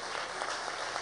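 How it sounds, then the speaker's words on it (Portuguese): Congregation applause at a prophetic apostolic church congress, a dense steady wash of clapping with no pauses, fairly close and even throughout. "Você pode aplaudir o Senhor?"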